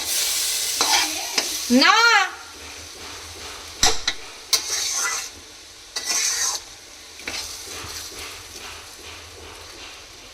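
Lentils being stirred and fried in a pan with green chilli, black cumin and crushed ginger during home Poush festival cooking, giving a scraping, sizzling stir with several sharp clinks of the spoon against the pan. Squeaky noises and faint voices are mixed in.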